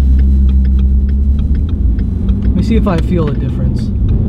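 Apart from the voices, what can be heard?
2015 Ford Mustang driving down the street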